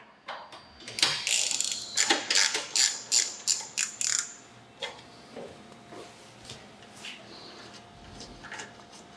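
A hand ratchet clicks in quick repeated runs while backing out the two rear screws of a Harley-Davidson Milwaukee-Eight fuel tank, loud and close for the first few seconds, then slowing to scattered fainter clicks.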